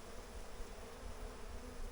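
Honey bees swarm around a beehive during July hive maintenance, a dense, steady buzzing drone that holds evenly and close throughout, with no voices over it.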